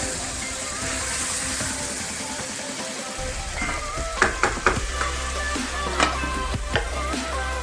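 Tomatoes and green chillies frying in a pan for chicken palak, a soft steady sizzle that turns into louder stirring clatter and scraping partway through, heard close with no talk.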